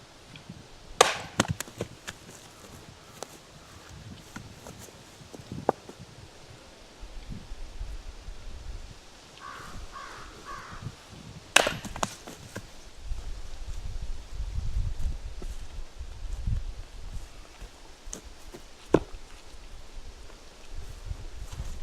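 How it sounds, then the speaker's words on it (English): An axe strikes spruce firewood being split outdoors, a few sharp chopping impacts spread apart with faint rustling and wind between them. "this is what it's like trying to split a piece of spruce the way I was taught to do it"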